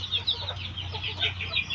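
Chickens cluck and chirp softly in quick, overlapping calls over a steady low hum, fairly close but not loud, with no talking.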